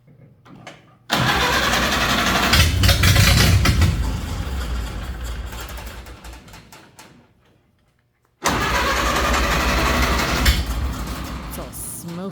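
A Ford Model A engine turns over and runs loud and rough, surging and fading out, falling silent, then firing again into a steady running drone, close by.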